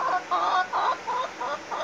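A chicken clucks repeatedly in a steady rhythm of short, nasal calls, close and clear with nothing else around.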